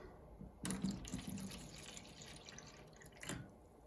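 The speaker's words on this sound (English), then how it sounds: "Add water to the tray." Cold tap water is added to a tray, with a burst of splashing and pouring near the start, a steady trickle, and a second brief splash toward the end, close and fairly quiet.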